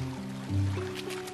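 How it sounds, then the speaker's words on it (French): Water is stirred and splashed close by to rouse trained fishing birds in China, with brief sloshing and trickling over a low hum, plus a faint voice in the background. "On agite l'eau et on les éclabousse pour les stimuler."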